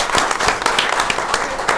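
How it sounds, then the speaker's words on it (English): An audience at a county board of commissioners meeting gives a round of applause, a steady wash of many hands clapping at moderate distance for nearly two seconds. "please, put your hands together and give them a big round of applause"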